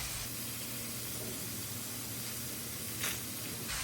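Shrimp cook in a pan for a creamy chipotle pasta, giving a steady, close sizzle and hiss with a brief louder spurt near the end.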